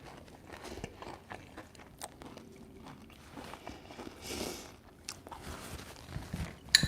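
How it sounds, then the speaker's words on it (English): Crunchy chewing of fried okra at a home meal, soft bites and crunches recurring irregularly, close and fairly quiet, with no talking. "Fried okra for that crunch."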